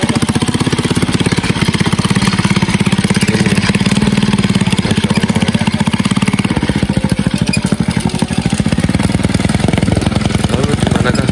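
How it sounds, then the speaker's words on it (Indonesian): A motorcycle loaded with wood for hauling runs with a steady, loud, close engine drone that holds throughout without a break. "cara mengangkut kayu dengan menggunakan sepeda motor"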